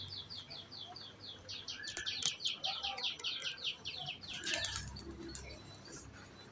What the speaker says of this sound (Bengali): ওই যে তিনখানা পায়রা উড়িয়েছি